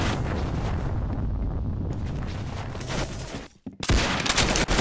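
Rapid bursts of gunfire from the Roblox game Arsenal crackle loud and dense throughout, with a brief drop before another heavy volley.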